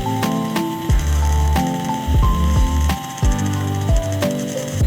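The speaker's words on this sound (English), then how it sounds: "By changing the angle, I'm able to use the grinding drum like a chisel to quickly remove large sections." A Dremel 200 grinding drum works a piece of fluorite rock in a high, steady whine, broken by repeated low ratcheting bursts as the stone is pressed against the spinning drum.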